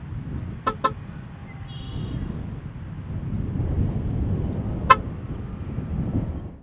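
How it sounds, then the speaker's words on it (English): Two quick electronic chirps from an electric car locking and unlocking, then a brief higher beep, and a later single chirp, heard over low wind-like outdoor rumble. "you'll hear this sound when you lock and unlock the vehicle."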